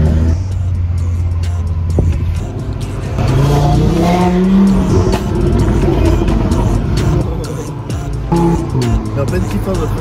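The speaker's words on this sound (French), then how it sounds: "Attention, la voiture." A car revs hard and its tyres squeal in a loud, continuous burst of engine roar with rising and falling pitch, mixed with music and voices talking over it.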